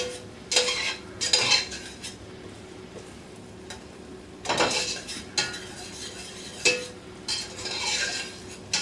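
Vegetables for a chicken pot pie sauté in a pan under a soft sizzle, broken by repeated clanks and scrapes of a utensil stirring against the pan at irregular intervals.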